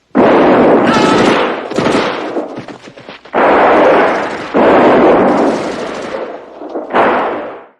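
Gunfire and explosions from the 1984 film Red Dawn, a loud, dense run of blasts and shots in bursts that fill nearly the whole span, with brief dips between volleys.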